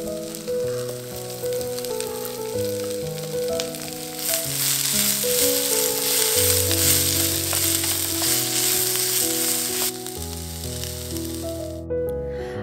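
Chopped onion, green chillies and curry leaves frying in oil in a pan for a canned tuna thoran, giving a steady close sizzle that runs under prominent music throughout.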